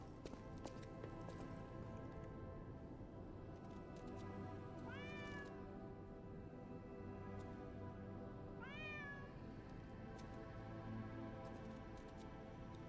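A cat in the video game Lies of P gives two short meows a few seconds apart over a steady game ambience with faint hoof-like clopping, no talk.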